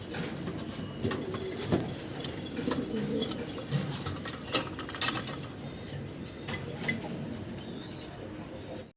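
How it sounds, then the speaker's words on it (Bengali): Pigeons at a pigeon farm coo in soft, repeated throaty calls from several birds at moderate distance, mixed with faint wing flutters and light clattering in the background; no speech. "দেখেন বাইরের ঘরের কবুতর এগুলা"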